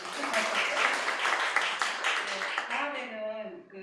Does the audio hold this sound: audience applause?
yes